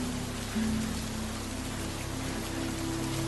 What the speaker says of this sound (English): the early spring skies were dark and rainy